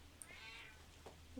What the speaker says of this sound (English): He's having a howl.